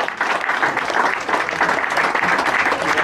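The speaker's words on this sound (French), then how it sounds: "On peut l'applaudir une nouvelle fois" An audience applauds at a cycling race ceremony for the Tour de Côte d'Or, a broad sustained wash of clapping from a crowd that stays loud and even without a break.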